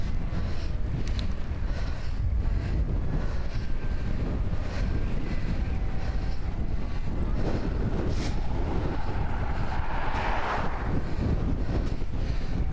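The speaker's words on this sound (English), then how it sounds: "We've got a fair old wind in front of us now." Strong headwind buffeting the microphone on a road bike ride at sunrise, a steady loud roaring rush that fills the whole clip with no talking.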